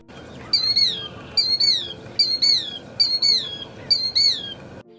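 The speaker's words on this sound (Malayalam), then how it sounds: "കിൽഡിയർ എന്ന സ്വന്തം പേരിൽ ശബ്ദമുണ്ടാക്കാൻ ഇക്കൂട്ടർക്ക് കഴിയും." A killdeer repeatedly calling, five clear, shrill, descending two-part cries spaced about a second apart, close and loud over a quiet outdoor background.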